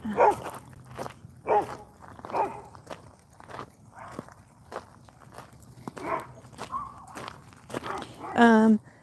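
Dog barking and moving about outdoors in a suburban garden, a few short yelps and footfalls scattered between stretches of someone talking close by.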